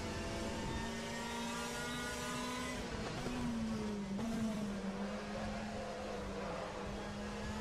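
A Citroën C-Elysée WTCC race car engine drones steadily at Hockenheim in RaceRoom, a constant buzzing hum that dips and rises slightly with gear and speed changes, with a French voice talking faintly throughout.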